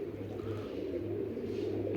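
A pigeon coos softly from a rooftop cage, a low repeating burble heard faintly against quiet background noise.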